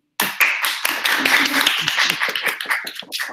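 A room bursts into applause, many hands clapping steadily for a few seconds, close and lively with a few scattered voices underneath.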